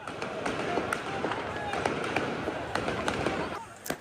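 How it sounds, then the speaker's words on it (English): Sharp scattered gunshot-like cracks ring out amid a noisy crowd ransacking a United Nations aid warehouse in Gaza, the irregular bangs sounding over a dense hubbub of voices and movement. "Shots ring out."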